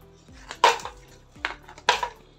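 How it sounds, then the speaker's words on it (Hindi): Ice cubes dropped into a mug for a sweet milk drink, landing in two sharp clattering bursts, each followed by a brief rattle, close and loud against a quiet background. "साथ इसमें मैं क्यूब्स डालूंगी"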